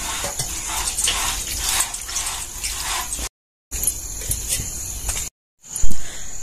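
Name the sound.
water pouring onto pot lid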